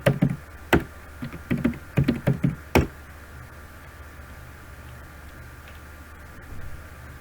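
Keyboard keys tapped in a quick irregular burst of about ten clicks while a password is entered at a Kali Linux terminal, then stopping, leaving a faint steady hum with no talk.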